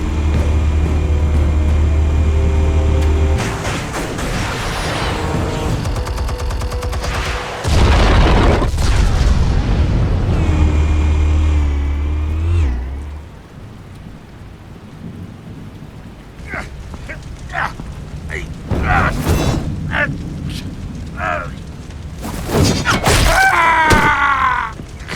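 Explosives going off in a Batman video game: deep rumbling booms and sustained roaring blasts with a crackling wash, then quieter scattered impacts and sharp bangs, with game voices heard in between.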